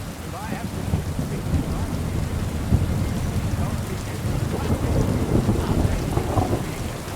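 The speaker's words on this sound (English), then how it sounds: "Damn, this is a hell of a storm." A video-game thunderstorm rolls on with dense, steady rain pouring over deep, continuous thunder rumble, loud and enveloping throughout with no speech.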